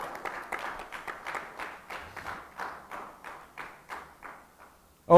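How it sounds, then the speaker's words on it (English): A church congregation claps together in a steady, rhythmic beat of sharp hand claps that repeats for several seconds, moderately loud and filling the room, with faint voices underneath and a sudden louder burst at the very end. "If you're clapping, clap good"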